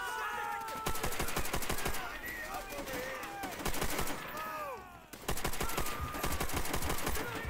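Rapid gunfire from a powerful weapon in a World War II shooter game, Call of Duty: World at War, on a Hard Landing mission. Loud bursts of repeated shots come in two long volleys separated by a short pause, with whistling overhead effects between them.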